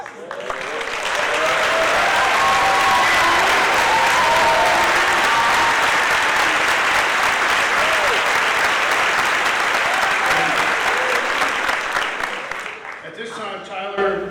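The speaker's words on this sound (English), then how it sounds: "We'll give Jack a round of applause." Audience at a high school class day ceremony applauding a graduating student headed for the armed services: loud, sustained clapping from a large crowd for about twelve seconds, with voices mixed in before it fades to scattered claps.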